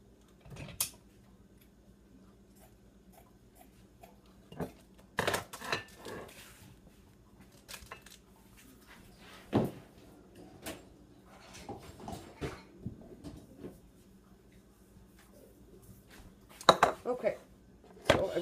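Kitchen rummaging to fetch cheesecloth: scattered clinks and clatters of dishes, pans and utensils, faint to moderate, with irregular knocks and a quiet room background.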